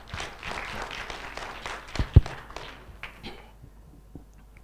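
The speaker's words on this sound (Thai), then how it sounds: "ขอปรบมือให้พี่ประเทืองอีกครั้งหนึ่งครับ" An audience at a lecture on designing and building flood walls for an industrial estate claps briefly, a scattered burst that peaks with a sharp thump, then thins into a few stray claps and quiet room noise.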